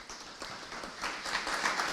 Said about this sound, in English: So can we just take a moment to give them a round of applause?